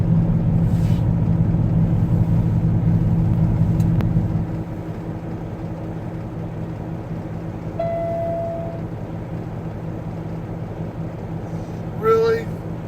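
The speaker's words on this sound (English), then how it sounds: "they've heard our truck start before" A pickup truck's engine runs steadily while driving, a low continuous rumble that is heavier at first and then eases to a quieter drone, with a brief electronic chime near the end.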